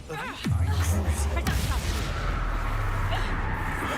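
In Hogwarts Legacy, a Confringo explosive spell bursts with a sharp whooshing crack followed by a booming blast and a second impact, then rolling rumble amid the noise of spellcasting combat.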